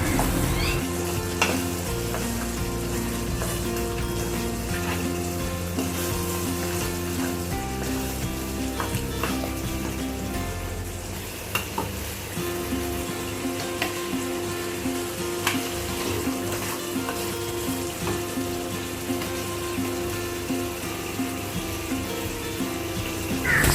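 Ground masala stirred into mutton in a hot pan, a steady loud sizzle of frying under continuous scraping and stirring, close and unbroken throughout.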